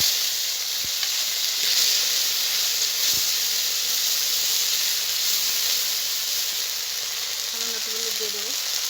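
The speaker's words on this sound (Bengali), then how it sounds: "এবার যে আদা, লঙ্কা, জিরে একসঙ্গে বেটে রেখেছিলাম ওটা দিয়ে দেবো।" A paste of ground ginger, chili and cumin sizzles in hot oil in a pan while a rohu fish and cauliflower dish is cooked, giving a loud, continuous hiss with brief clinks near the end.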